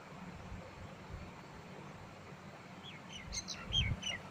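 Small birds chirp in a quick cluster of short, high tweets over the final second and a half, preceded by quiet low rumbling ambience.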